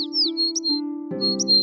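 High bird chirps and tweets from a snow-white pigeon in an animated Cinderella cartoon, several short calls heard over a steady tonal music bed.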